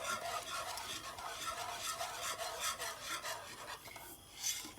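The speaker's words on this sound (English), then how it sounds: "the more you stir to avoid getting sticking on the pan" A spoon works steadily through béchamel sauce in a pan, a continuous rasping scrape with a rhythmic back-and-forth texture, close and fairly loud, with no voices.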